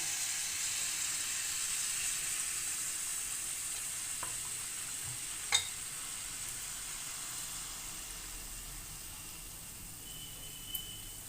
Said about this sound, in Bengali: আমি কড়াইতে তেল দিয়ে দিয়েছি। আমি 1 চামচ ব্যাটার দিয়ে দিচ্ছি।